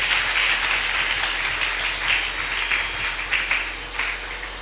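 A church congregation applauds during a Sunday service, sustained clapping that stays steady and loud for several seconds with no voices over it.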